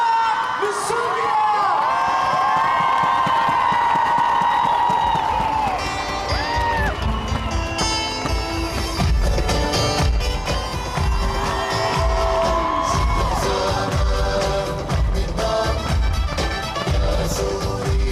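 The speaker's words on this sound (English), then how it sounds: "je veux un tonnerre d'applaudissements pour Yahya Awad Moussouria" A concert crowd in Paris erupts in loud cheering, whoops and applause, a dense sustained roar of many voices and clapping hands close by, with shouts rising above it throughout.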